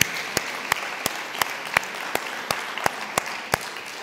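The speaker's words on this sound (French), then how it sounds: "On les applaudit. Je m'applaudis moi-même." A congregation claps in a church, with a thin, even wash of applause and sharp single claps standing out at regular intervals, moderately loud with no talk over it.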